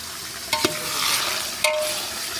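Onions tipped into mutton frying in a pot over a village chulha give a broad steady sizzle, with two sharp clinks of a utensil against the pot near the start and another about a second later.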